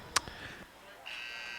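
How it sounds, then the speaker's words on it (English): Halftime buzzer at Art Keller Field in Kenosha, Wisconsin, during a Carthage vs. UW Oshkosh women's soccer match: a steady, sustained electronic buzz that sounds after a short burst of talk. "So that is the halftime buzzer from Art Keller Field in Kenosha, Wisconsin."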